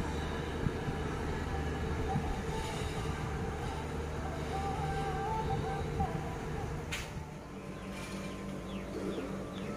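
Steady rumble and rattle of a passenger train running between stations in Thailand, heard from inside the carriage, with continuous wheel and car noise and a brief brighter screech near the end.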